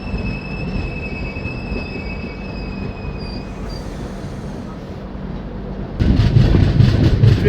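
The Chambal Express rolls toward Agra with a continuous loud rumble of wheels on rails and a thin, high wheel squeal in the first half, and the noise swells heavier near the end.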